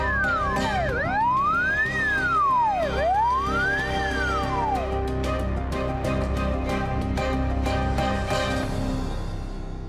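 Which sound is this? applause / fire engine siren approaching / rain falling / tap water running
fire engine siren approaching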